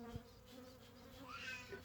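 Honeybees buzz close by during a summer hive inspection, a droning hum with a rising whine as one flies near, brief and fairly faint.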